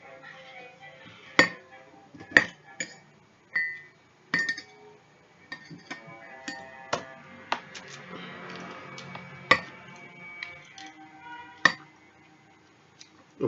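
Metal utensil mixing, cutting and crushing food in a bowl, giving sharp irregular clinks and taps against the bowl with soft scraping in between, close and fairly quiet.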